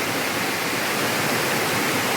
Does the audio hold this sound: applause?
no